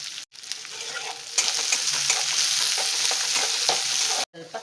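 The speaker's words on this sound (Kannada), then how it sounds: "ಇದೆಲ್ಲ ಚೆನ್ನಾಗಿ ಫ್ರೈ ಮಾಡ್ಕೊಳ್ಳೋಣ" Green chillies and curry leaves sizzle steadily in hot oil with intermittent stirring scrapes, a sharp burst of frying after a brief pause and continuing loud and close until a short cutoff near the end, no talk.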